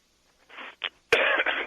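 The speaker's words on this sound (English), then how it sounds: "Sorry, I'm coughing." A person coughs a few times, two short muffled coughs followed by a louder, harsher burst, close to the microphone in a quiet room.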